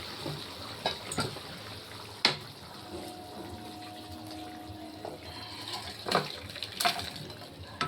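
Egg curry gravy made with taro and potato pours from the pot in a kitchen, a steady wet splashing with a few sharp clinks of cookware, moderately close.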